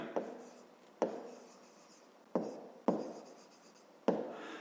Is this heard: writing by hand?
yes